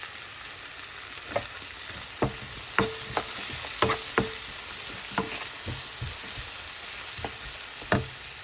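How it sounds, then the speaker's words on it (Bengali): Onions and green chillies sizzle in hot oil with a constant hiss, broken by irregular sharp taps and scrapes of a spoon stirring the pan. "পেঁয়াজটা একটু ভাজা ভাজা হলে"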